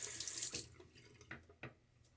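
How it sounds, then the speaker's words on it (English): A tap runs for a rinse during a wet shave, with a brief rush of water that cuts off, then a few soft splashes and drips at close range. The sounds are quiet and no one speaks. "And let's rinse."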